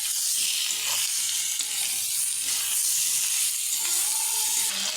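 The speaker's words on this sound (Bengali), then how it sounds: "এখানে সামান্য একটু লঙ্কার গুঁড়ো আর হলুদ লবণ দিয়ে দেবো, দিয়ে ভালো করে কষিয়ে নেব।" Chili powder, turmeric and salt sizzle and fry in a hot pan with oil, a steady loud hiss throughout with faint stirring scrapes, no voices.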